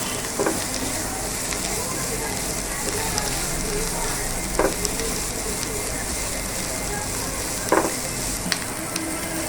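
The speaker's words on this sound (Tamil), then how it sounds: "கேப்சிகம் சேர்த்துக்கலாம். இதை நல்லா வதக்கிக்கலாம்." Chopped capsicum sautés with onion in a pan for pepper chicken, a steady close sizzle with a few sharp scraping stirs, and no talking.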